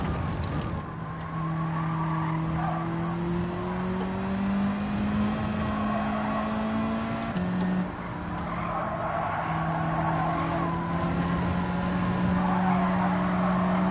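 A BMW race car's engine drones steadily in Gran Turismo 7, holding a smooth tone that dips briefly around the middle as if shifting gear, then carries on with faint tire and track noise behind.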